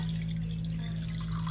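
Excess water from transplanted vegetable plants pours into a bowl in one brief, steady trickle, close and continuous over a faint low hum.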